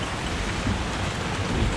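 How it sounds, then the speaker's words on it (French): A thunderstorm with a heavy rain squall at sea off the Vendée coast, a dense, loud hiss of pouring rain over a deep, rumbling low roar, steady throughout the short stretch. "Il y a un orage de ouf, il y a un grain de ouf."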